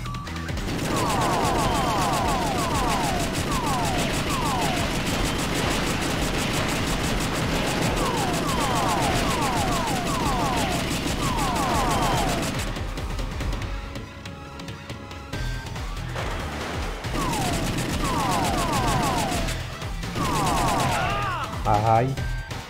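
Light-gun shots ring out in The House of the Dead 2 on Dreamcast as a boss is fired upon, a dense steady stream of rapid shots over game music, with a commentator speaking Portuguese.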